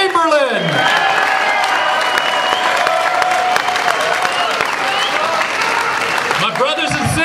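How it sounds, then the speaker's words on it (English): Loud, sustained applause from a union rally audience welcoming a speaker, dense clapping mixed with crowd cheers and whoops that carries steadily throughout. "Please give a big round of applause for Tom Chamberlain."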